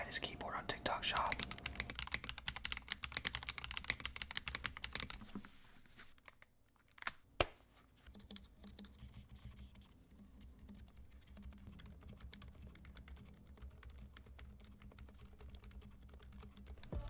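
Higround Opal 65% silent mechanical gaming keyboard being typed on, a fast quiet patter of soft key presses, busier at first, then sparser light taps after a brief pause.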